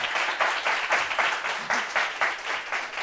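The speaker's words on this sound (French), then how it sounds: "Applaudissements pour ce match." A studio audience at a French talk show applauds loudly and continuously, with dense clapping that surges in gentle waves throughout.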